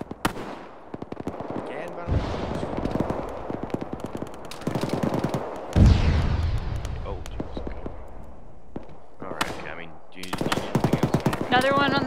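Automatic weapon fire in the military shooter Arma 3, with long rattling bursts and sharp single shots, near and loud, plus a heavy blast midway, while players talk over the radio.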